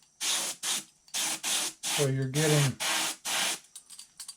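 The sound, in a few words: spraying PVA release agent with spray gun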